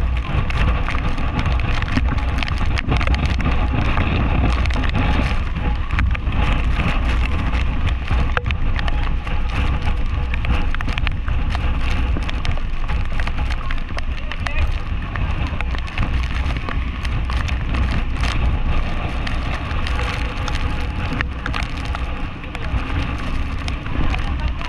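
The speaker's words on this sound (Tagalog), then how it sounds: "Dala niya ay lakas ng hangin, lakas ng ulan." Steady, loud roar of typhoon wind and heavy rain hammering surfaces, continuous throughout with gusty buffeting on the microphone.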